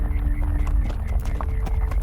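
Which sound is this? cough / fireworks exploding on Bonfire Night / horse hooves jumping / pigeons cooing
horse hooves jumping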